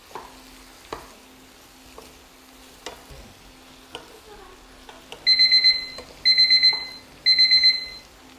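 A kitchen timer beeps in three short, loud bursts of rapid electronic chirps, cutting in after soft clinks and stirring of fish cakes being stir-fried in a pan.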